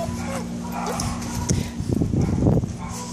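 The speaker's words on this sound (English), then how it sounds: "Super fun, active dog." A fun, active shelter dog barking and yipping a few times, fairly close, over a background hum with faint talk nearby.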